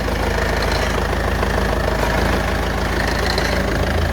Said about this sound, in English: Something is not entirely happy in the clutch department.